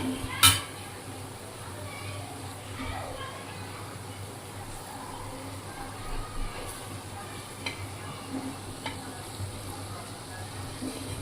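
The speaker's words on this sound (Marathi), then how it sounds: "कारल्याचे काप आपले पिठात मिसळून सर्व तव्यावर ठेवलेले आहेत. आता ते आपण पलटी करत आहोत." Bitter gourd slices coated in wheat-flour batter fry on a hot griddle with a steady soft sizzle, a sharp utensil clack near the start and occasional scraping as the slices are flipped, with a voice talking over it.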